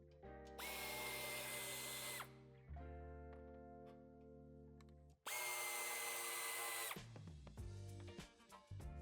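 Power drill backing out screws from the metal bumper reinforcement of a 2021 Audi Q4 e-tron, heard as two long, loud whirring bursts of several seconds each with a brief pause between, close up and with no talking.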